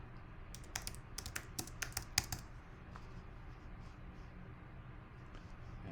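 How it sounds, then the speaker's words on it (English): Quick bursts of keyboard typing, a cluster of crisp clicks in the first couple of seconds, then quiet with faint scattered taps. "I'm typing gardening tips."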